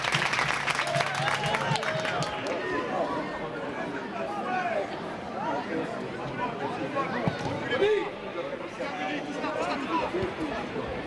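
Stadium crowd at a 2011 football match between RBDB and Lommel applauding a substituted player as he leaves the pitch, a broad sustained wash of clapping and chatter with some cheering, steady throughout.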